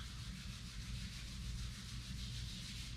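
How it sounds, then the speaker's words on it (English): Palms rub together in a steady, soft, continuous swish during a yoga session, quiet and close with no talking. "Rub your palms"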